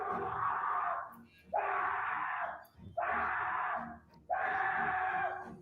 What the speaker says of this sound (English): Okay, go ahead, scream.